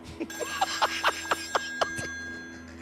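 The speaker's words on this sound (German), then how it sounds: "Irgendwo klingelt das Telefon." A telephone rings somewhere inside the eerie setting of the horror game Still Wakes the Deep, a series of short electronic trill bursts repeating steadily over a low hum, moderately loud with no talk over it.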